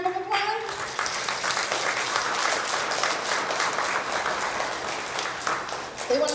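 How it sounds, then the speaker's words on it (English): A school crowd gives a teacher a warm round of applause, steady and dense clapping filling the space, with a few children's voices faintly mixed in and an adult voice at the start and end. "let's give Mr. Galimba a round of applause"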